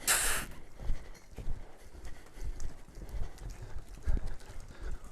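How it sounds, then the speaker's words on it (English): A horse canters on a long line around a round pen, rhythmic hoofbeats thudding on soft ground in a steady repeating three-beat pattern, fairly close, with a brief bright rustle at the start. "I plan on cantering her, so I want to roll her back at the canter and roll back."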